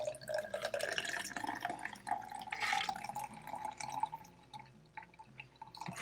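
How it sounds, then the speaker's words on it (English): Cocktail made with Bacardi Gold rum strained through a Hawthorne strainer into a glass, a close, steady trickle and drip of liquid lasting several seconds. "Hawthorne strainer goes on top. And we'll just go strain that just like that."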